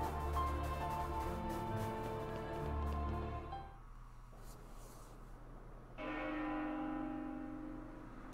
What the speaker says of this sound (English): Well, I think I know where the bell's coming from.